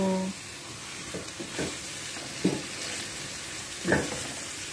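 Two eggs drop into a hot frying pan for a simple home-cooked dish, giving a soft, steady sizzle broken by a few sharper bursts and scrapes of stirring.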